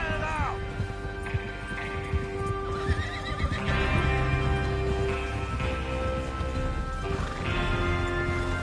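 Horses whinny and neigh several times over steady clip-clopping hooves in the video game Red Dead Redemption, with a busy game soundscape and rain-like hiss underneath.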